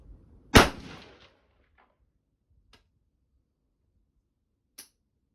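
A single sharp shot from a Mossberg MMR Pro 5.56/.223 rifle on a range cracks loudly and decays quickly, followed by a couple of faint metallic clicks in otherwise quiet surroundings.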